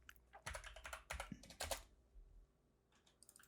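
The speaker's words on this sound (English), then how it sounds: "if I type" Rapid, uneven bursts of keystrokes on a computer keyboard, loud clusters of clicks in the first two seconds, a pause, then a few lighter taps near the end, with no voices.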